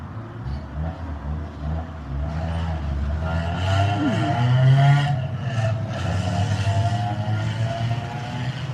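Loud, steady road traffic outside a barbecue restaurant, with engines rumbling and a vehicle accelerating past midway, a continuous wash of motor noise with no talking.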